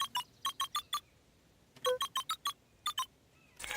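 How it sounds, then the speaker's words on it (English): Keypad buttons in the game Beacon Pines beep as a password is entered, a quick run of six electronic tones, a pause, then another run of six and two more, ending in a short burst of buzzy noise. "Luca cracked his knuckles and entered the letters into the keypad."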